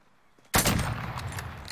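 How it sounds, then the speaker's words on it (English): Gunfire in a Call of Duty Modern Warfare Hardpoint match bursts in abruptly after a brief quiet, a loud, sustained rattle of rapid shots with overlapping bangs and sharp cracks. "Enemy fire! Enemy fire!"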